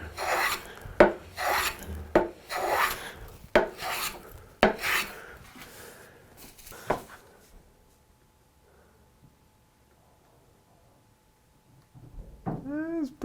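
A hand plane draws several rasping strokes across walnut on a kumiko board, coming in uneven bursts, then stops into near silence before a brief squeaky sound at the end.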